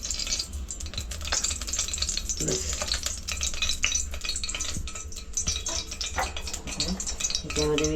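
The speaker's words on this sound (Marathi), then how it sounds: "फोडणीला घालते भाजी" Vegetables for a chana dal and val papdi curry hiss and crackle in a hot oil tempering in a heated cooker, with steady stirring and utensil scrapes close by and a brief spoken word.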